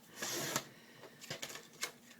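A paper trimmer slides along a sheet of black polka dot paper to cut it to an 8.5 inch square, giving a short, close scraping swipe followed by a few light clicks.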